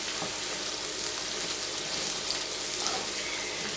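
Sliced onions fry in a pan at medium heat, giving a dense, continuous close sizzle with a few faint crackles throughout and no voice.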